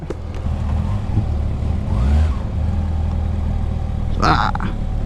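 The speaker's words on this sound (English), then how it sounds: "Brand new Kawasaki zx6r, and we're off." A brand-new 2019 Kawasaki ZX6R motorcycle idles with a steady low engine drone, then revs up briefly near the end as the rider pulls away, heard close and fairly loud.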